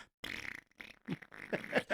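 A man blowing imitation fart noises with his mouth, a few sputtering raspy bursts in irregular succession, fairly faint, over a movie soundtrack.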